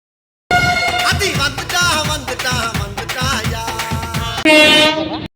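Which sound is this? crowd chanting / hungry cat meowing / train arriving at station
train arriving at station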